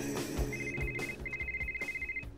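An electronic phone rings in Rocketbirds 2, a steady high trilling tone in two bursts with a short gap between them, heard clearly over a low game soundtrack and without speech.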